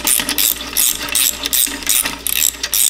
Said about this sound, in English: Next, I'm gonna loosen up this exhaust clamp